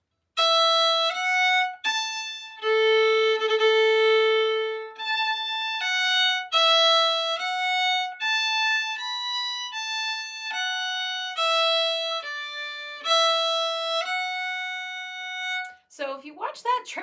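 Two phrases of the Cape Breton reel Molly Rankin's, played as a steady string of clear melodic notes with a triplet and slurs, bright and close, ending in a short scrape.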